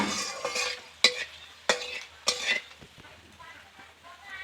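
Chopped onion dropped into hot oil with bay leaf, cinnamon, cloves and cardamom, giving a few sharp bursts of sizzling and stirring that die down to a quieter frying hiss, with a faint voice in the background.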